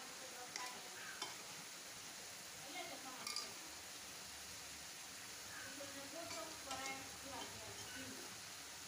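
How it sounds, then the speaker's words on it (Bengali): Goat meat stirring in a cooking pot on a stove for an Eid dish, a steady sizzle with scattered spoon scrapes and light clinks against the metal, close and fairly quiet. "চুলা জ্বালিয়ে দেওয়ার পর কিছুক্ষণ রান্না করার পর দেখুন মাংসর নেড়ে চেড়ে দিচ্ছি।"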